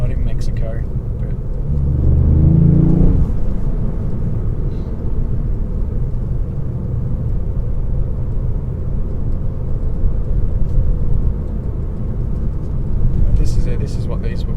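A Ford Mk8 Fiesta ST on a test drive along a road in Mexico, its engine a steady low rumble from inside the cabin, swelling early and holding throughout while a person talks over it.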